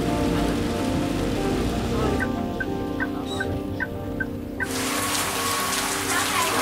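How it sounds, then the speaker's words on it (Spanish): Steady, heavy rain hisses throughout while a chicken clucks several times in the middle, close and distinct. "Está lloviendo mucho"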